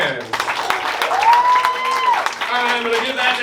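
A comedy club audience at a roast battle in Hartford claps to vote for comedian Abbey Vollman, a loud, steady burst of applause and crowd noise that carries through the whole moment.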